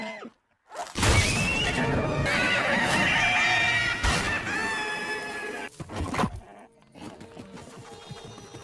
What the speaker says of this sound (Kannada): ಈ ಬಿಳಿ ಕುದುರೆ ಹೆಸರು ಮ್ಯಾಕ್ಸಿಮಸ್.